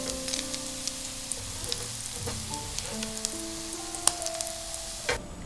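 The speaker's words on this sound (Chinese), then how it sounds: "先在锅中加入10克猪油，融化之后加入泡好的海米，炒出香味" Soaked dried shrimp frying in pork lard in a wok, a steady close sizzle with scattered crackles and a few sharper pops, no voices.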